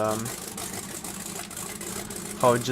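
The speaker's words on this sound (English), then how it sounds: "That engine sound is still incredible." A walking tractor engine in the video game Spintires chugs steadily at close range, with a rhythmic mid-pitched thrum and a brief louder rev near the end; a person talks over it.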